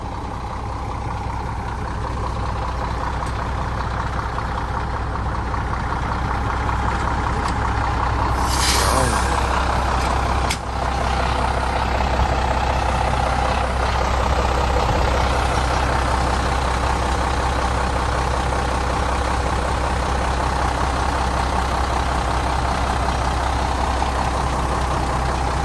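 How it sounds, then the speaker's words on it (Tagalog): A 13-year-old Hino truck's engine idles in a steady low diesel rumble throughout, with a sharp hiss of air brake release partway through and people talking nearby. "Tahimik pa yung makina"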